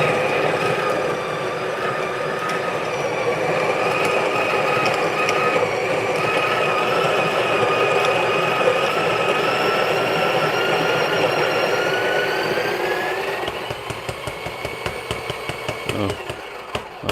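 A Breville Barista Pro espresso machine runs steadily through a shot, its pump giving a continuous mechanical hum and whine that fades toward the end into softer clicks and small knocks.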